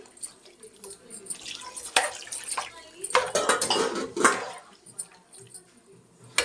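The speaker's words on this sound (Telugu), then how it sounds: "ఈ చికెన్లోకి కాస్త ఉప్పు, పసుపు వేసుకొని ఇలా బాగా కలుపుకోవాలి" Chicken mixed with salt and turmeric is stirred in a metal pot, a utensil clanking and scraping against the sides in irregular bursts with some wet slopping, close by, and no talk.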